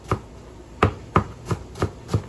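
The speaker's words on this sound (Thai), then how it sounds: "ซอยขิงหั่นขิงสบายๆ" Ginger is sliced with a knife on a board, six sharp chopping knocks at an irregular, unhurried pace, close and clear with no talking.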